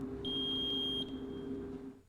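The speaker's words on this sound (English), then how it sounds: "Press and hold the button for about 8 seconds until a beep sounds." Steady electronic beep from a GJD security light detector during walk test setup, a single sustained tone lasting about a second over a constant low hum.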